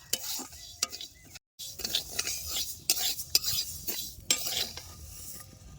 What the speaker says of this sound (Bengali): ডালগুলো দেখেন কি সুন্দর লাল করে বাজে নিছি